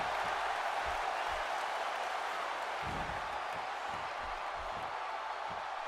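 A wrestling arena crowd in WWE 2K16 keeps up a constant, fairly loud roar of cheering and applause during a match, with occasional thuds and a commentator's voice underneath.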